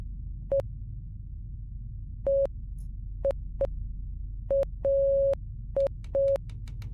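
Short electronic Morse code beeps in a retro-style indie horror video game, a steady tone broken into irregular dots and dashes, clean and isolated against a quiet background.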